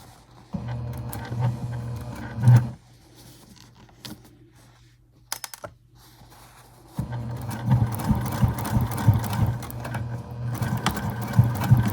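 A sewing machine runs in rapid, steady stitching bursts, top stitching a tote bag, stopping for a few seconds midway before starting up again, loud and close.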